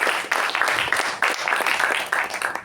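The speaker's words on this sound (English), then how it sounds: "So let's give a round of applause to our president for the great job done." An audience bursts into applause for a club president at a joint meeting, many hands clapping in a lively, sustained patter that carries on throughout.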